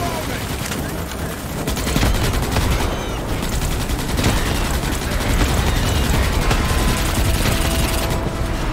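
Automated defense turrets in the sci-fi shooter Starship Troopers: Extermination rattle off rapid, sustained gunfire, a dense clattering fusillade with heavy booms, loud and continuous throughout.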